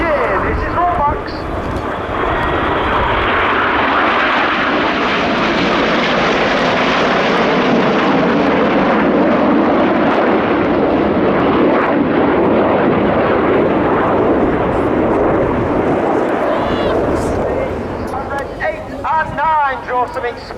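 Red Arrows jets performing the rollbacks manoeuvre at the RAF Cosford Airshow 2024, a loud sustained jet roar that swells and holds overhead before fading, with a commentator talking over it and wind buffeting the microphone.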